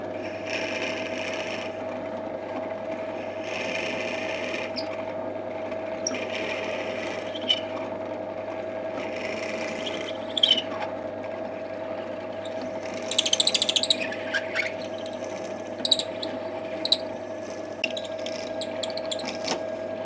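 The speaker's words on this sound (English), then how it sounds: "Let's head over to the pillar drill and we can drill the hole in the middle." Pillar drill with a constant motor hum and whine boring a hole through a pen blank held in a vise, with intermittent scraping and cutting bursts and small clicks over the steady drone.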